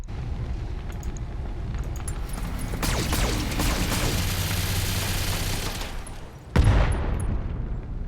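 LRM turret fire in the BattleTech video game: a sustained rumbling barrage of missile launches and impacts, loud and continuous, ending in a sudden heavy blast near the end.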